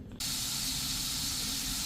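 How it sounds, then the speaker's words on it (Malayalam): Marinated fish hits hot oil in a pan at home, a sudden loud, even sizzling hiss that starts sharply and holds steady throughout. "ഇനി നമുക്ക് മീനും കൂടി വറുക്കാം."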